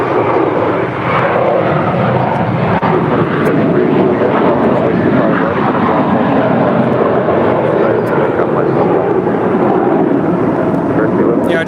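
Airbus A321 airliner departing LAX, a loud continuous engine roar that holds steady throughout, dense and close, with people talking faintly underneath.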